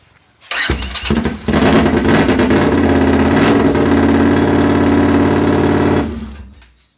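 An unmuffled Honda CX500 motorcycle engine running without an exhaust silencer starts with a few coughs, then runs loud, raw and rattling at a fast steady idle close by before shutting off.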